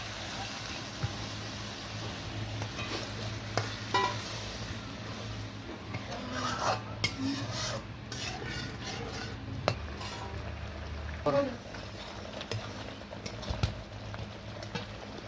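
Spice paste and coconut milk simmer and fry in a pan with a soft bubbling sizzle, and a spoon stirring through it makes intermittent scrapes and taps at a low, close level.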